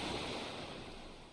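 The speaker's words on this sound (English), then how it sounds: "An invigorating sea breeze slowly drifted by, occasionally accompanied by the sound of fish leaping out of the water" Steady wash of sea surf and breeze from a seaside scene in the video game Snowbreak: Containment Zone, a continuous broadband rush with no distinct wave breaks, fairly loud and unbroken throughout.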